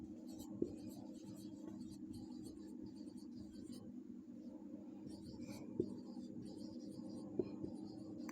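Pen or pencil writing by hand on paper, a steady faint scratching that runs throughout over a low constant hum, with a few soft taps.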